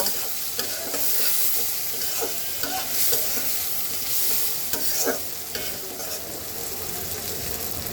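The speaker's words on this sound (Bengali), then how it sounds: "পেঁয়াজটাকে একটু হালকা ভেজে নেব" Chopped onions fry in hot oil with a steady, dense sizzle, broken by a few louder crackles and stirring scrapes.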